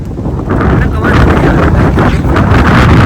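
Strong gusting wind during a village storm roars and buffets the microphone with loud, continuous rumbling that rises and falls without letup.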